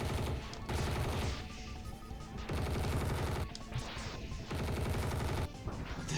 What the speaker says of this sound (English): He just be shooting missiles left and right.